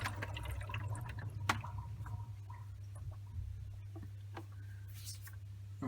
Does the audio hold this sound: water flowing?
yes